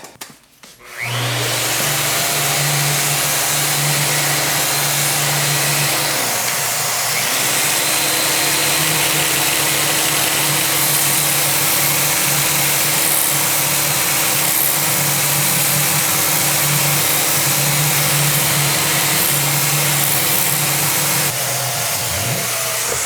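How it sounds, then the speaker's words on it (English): A power sander works the arm bevel of an acoustic guitar being built, a loud, steady whirring hum with a bright grinding hiss that runs continuously, briefly dipping once midway, with no speech. "I'm gonna grab my sander real fast, and we will hit this up"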